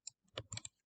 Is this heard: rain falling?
no